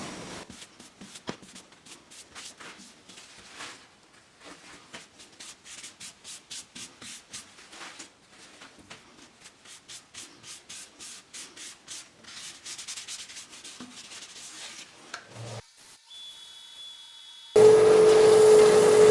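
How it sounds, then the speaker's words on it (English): Abrasive paste being rubbed onto a birdseye maple bowl on a wood lathe, a steady close-up rhythmic scrubbing that repeats for several seconds, ending in a louder continuous hum. "Then we'll hit it with some abrasive paste."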